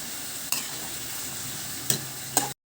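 Pinakbet vegetables and shrimp-head broth being stirred in a pot, a soft steady sizzle with three sharp scraping clinks of the utensil against the pot, ending abruptly.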